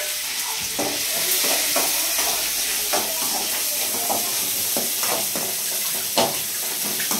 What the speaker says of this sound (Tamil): சோமு நல்லா பொரிஞ்சிருச்சு கருவேப்பிலை அதுவே வெங்காயம் பச்சை மிளகாய்